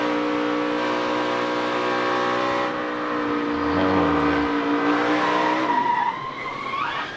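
Onboard a 2018 NASCAR Cup stock car, the engine drones loudly and then drops away as the car gets loose in a chain-reaction crash. A low rumble and a rising scrub of tire skid follow as it slides toward the grass.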